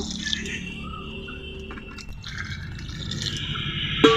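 Water is poured into a pot of raw mango pieces for making jam, giving a continuous filling, gurgling splash that stays fairly even and ends with a brief clink, with no talking.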